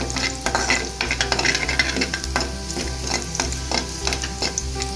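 Chopped red and green chillies with garlic cloves stirred in a sizzling pan for restaurant-style chilli basa fish, a loud close frying hiss under repeated rhythmic scrapes and clanks of a spoon against the pan.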